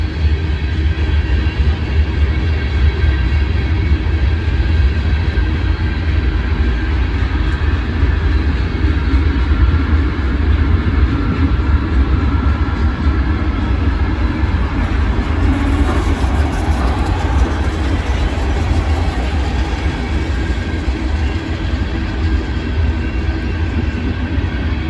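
A long Norfolk Southern–led freight train with foreign-railroad locomotives rumbles steadily past in winter, a continuous heavy roar with faint clanking of cars, loud and close throughout.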